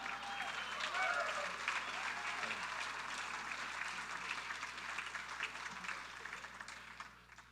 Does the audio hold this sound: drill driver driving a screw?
no